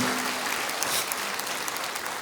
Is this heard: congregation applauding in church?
yes